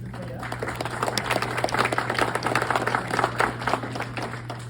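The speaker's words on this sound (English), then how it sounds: "go ahead and give him a round of applause as he makes his way up" An audience applauding for speaker Ben Hancock at a barn events gathering, steady soft clapping over a constant low hum with some crowd murmur, heard from a distance.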